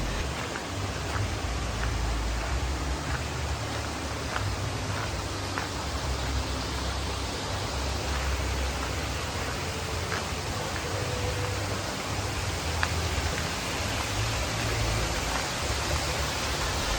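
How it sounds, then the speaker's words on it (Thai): Fountains and small waterfalls among the flowers of a botanical garden in Chiang Mai splash in a steady, even rush of falling water that fills the scene without letting up. "มีน้ำพุหรือว่าการตกแต่งด้วยน้ำตกนะฮะ"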